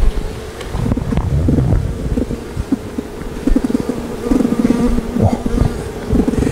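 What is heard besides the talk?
honey bees buzzing in an apiary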